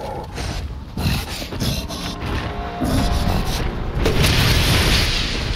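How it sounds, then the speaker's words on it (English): Flashbang grenade detonating in Resident Evil Village, a loud close booming burst with a sharp onset, then a bright hissing ringing wash that swells and lingers. "That's a flashbang."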